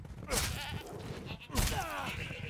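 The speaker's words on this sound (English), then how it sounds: "Goats! There's two of them!" Goats bleating in the video game Resident Evil Village, two fairly close, wavering bleats about a second apart.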